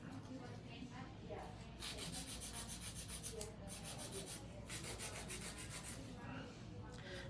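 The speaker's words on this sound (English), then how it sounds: "This hand filer is just for me to make it nice and crisp" A hand file rasps steadily back and forth across an acrylic nail, a close, soft scratching that comes in short strokes of varying intensity, shaping the tip into a taper.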